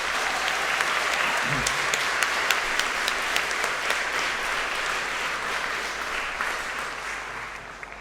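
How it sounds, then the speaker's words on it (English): University graduates applaud their supporters at a graduation ceremony in a large hall, sustained dense clapping from a big crowd with sharp individual claps standing out, steady throughout. "I'd like to invite my graduate friends here to give you a round of applause for your"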